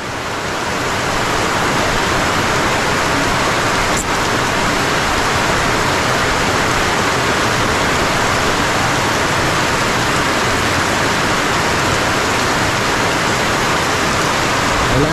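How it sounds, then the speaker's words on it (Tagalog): Heavy rain pours steadily onto a bitter gourd farm during a flood, a dense, loud, continuous roar of water with no break. "Wow, ulan."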